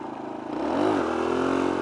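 A motorcycle engine revs up during a wheelie, its pitch rising and then holding in a strong, loud drone, heard close by with wind noise.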